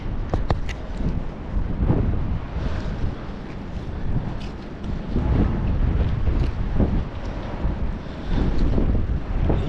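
Strong wind gusts roar across an open sea around a small fishing boat, a dense, steady buffeting with waves slapping below and no voices.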